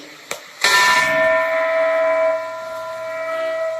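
A single bright classroom bell strike after a small tap, ringing out with a long, clear sustained tone that slowly fades.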